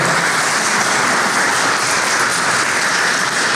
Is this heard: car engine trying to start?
no